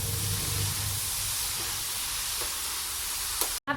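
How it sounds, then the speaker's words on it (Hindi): Radish pieces sizzle and hiss steadily in a hot kadhai, a continuous close frying crackle that stays even throughout before a brief cut near the end. "मूली को डाल दिया है कढ़ाई में, मूली भून रही है"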